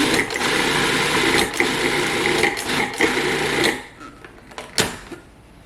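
A kitchen blender whirs loudly and steadily through a batch of homemade pesto with olive oil, its motor roaring with brief dips before cutting off, leaving faint clatters and a short knock.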